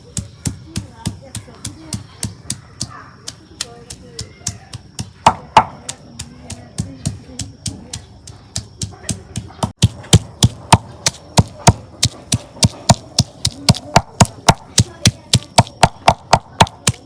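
Ginger, garlic and onion are crushed on a stone slab (shil-pata) with a stone, producing a steady, evenly spaced run of sharp knocks that grows louder and quicker toward the end.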